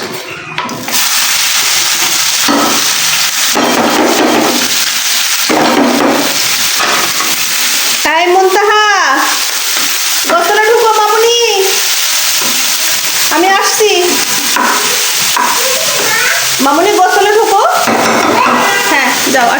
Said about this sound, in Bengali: এরকম মশমশে করে ভাজতে হবে দেখেন কড়া কড়া করে মুড়মুড়ে করে